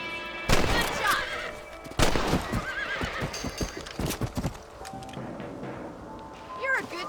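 Horses clip-clop and trot in the Red Dead Redemption video game, with several neighs and whinnies over hoofbeats, a few distant gunshots, and voices talking at moderate level.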